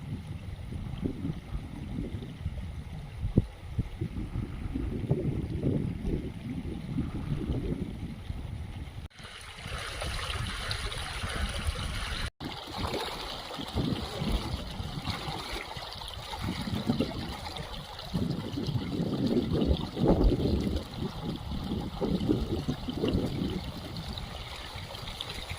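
A river in the Konkan region flows steadily with a continuous watery rush and trickle that stays at an even level, close by, with no voices over it.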